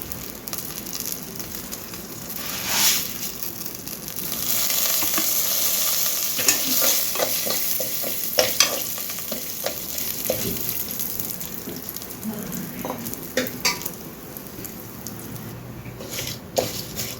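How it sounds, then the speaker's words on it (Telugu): Moong dal frying in a pan, a steady sizzle with scraping stirs of a spoon running throughout, close and moderately loud, no voices. "కొంచెం వేగాలి ఇప్పుడు ఇందులో పెసరపప్పు వేసుకుందామండి"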